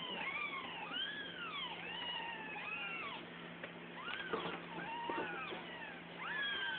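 Several kittens meow again and again in high, rising and falling cries, close by and fairly loud, with no other sound.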